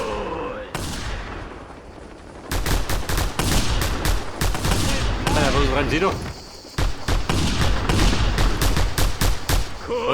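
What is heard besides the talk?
gunfire from Reapers in video game Just Cause 2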